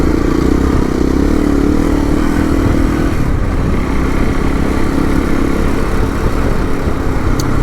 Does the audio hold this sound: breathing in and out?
no